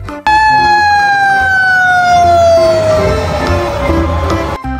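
A loud toy fire truck siren wails close by in one long, steadily falling tone, with a low engine rumble beneath it.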